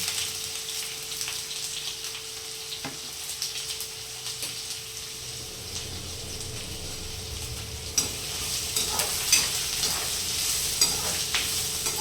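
Garlic and chopped onion fry and brown in an oil-filled pan while making a capsicum and potato sabzi, giving a steady, soft sizzle with occasional stirring scrapes and faint crackles, no voices.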